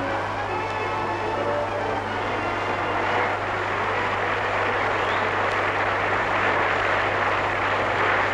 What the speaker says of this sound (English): Planes of the Royal Australian Air Force, the Army and the Navy contribute to the magnificence of Hobart's welcome to the royal couple.